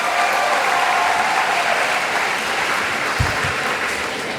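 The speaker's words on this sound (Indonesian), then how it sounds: "Tepuk tangan dulu untuk teman-teman." Steady applause from a school audience fills the room during a visit by Indonesia's food minister at MAN 1 Jepara, a dense, continuous clapping that holds even throughout with no voices over it.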